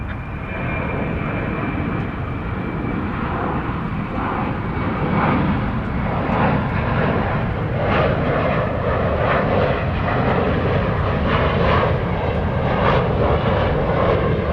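American Airlines Airbus A321 jet taking off at night from runway 36 right at DFW Airport, a loud steady engine roar that swells and holds throughout, close and continuous with no talk.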